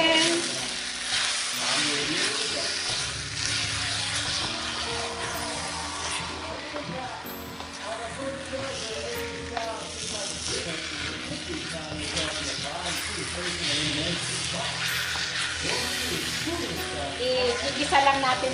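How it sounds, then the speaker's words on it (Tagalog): Pork liver and bay leaves sauté in a pan for pork with radish, a continuous sizzle with stirring under a person talking throughout. "igisa lang natin ng mabuti yung atay"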